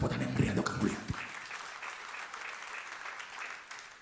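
A church congregation claps during a sermon: a voice speaks briefly at first, then steady, fairly faint applause fills the rest of the room with a dense patter.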